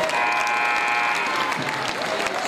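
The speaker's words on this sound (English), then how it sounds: "have a big round of applause for your cheerleading squads." Crowd in a high school gym applauds the cheerleading squads at a girls' sub-state basketball game, a loud, steady wash of clapping with some cheering mixed in.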